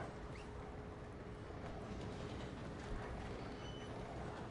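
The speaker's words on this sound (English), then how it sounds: "All right, hang on. I gotta stop this train." Train rolling along in Red Dead Online, heard as a faint, steady rumble of wheels and carriage noise with a low hum and light squeaks, no voices over it.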